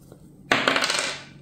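A die clatters as it is rolled onto a hard surface, giving a sharp initial impact followed by about a second of rattling, tumbling bounces that quickly settle.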